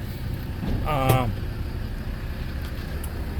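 A Land Rover Defender TD5 diesel engine runs smoothly at a steady idle, giving a constant low rumble throughout, with a brief tonal, voice-like sound rising over it near the start.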